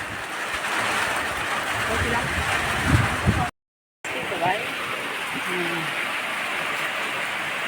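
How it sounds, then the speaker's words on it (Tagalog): Steady hiss of rain falling over a wide area near Bambi Falls, with a brief cut to silence midway and faint voices and bumps under the downpour. "Ayan, umuulan na guys."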